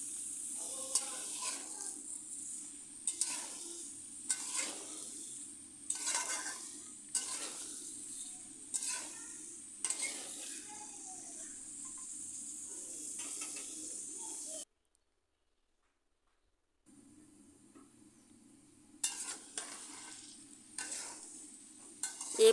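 Spinach and vegetables fried with red lentils in a pan, soft sizzling broken by regular rhythmic stirring strokes, with a brief silent pause midway and a dove cooing faintly in the background.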